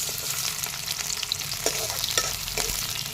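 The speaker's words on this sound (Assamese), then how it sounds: "পিঁয়াজখিনি অকণমান ৰঙচুৱা হোৱালৈকে ভাজি ল'ম।" Onions frying in hot oil, a steady bright sizzle with occasional crackles and stirring clinks, close and continuous without any talking.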